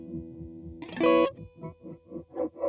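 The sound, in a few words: guitar filter effect on the Matthews Technician pedal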